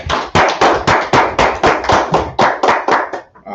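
A group at a scripture study session claps in unison, about a dozen loud, sharp, evenly spaced claps that taper off at the end.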